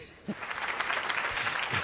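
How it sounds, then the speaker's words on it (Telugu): Audience applause at a televised singing competition swells after a brief thump and continues as steady, moderately loud clapping across the clip, with faint voices beneath. "అర్థమైన వాళ్ళు చప్పట్లు కొట్టండి"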